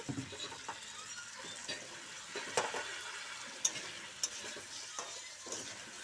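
Potatoes and onions frying in a pan with spice paste and a little water added, stirred with faint scraping and soft sizzle, a few sharper utensil knocks standing out.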